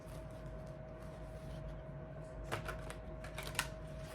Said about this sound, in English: Let's do a couple more shuffles.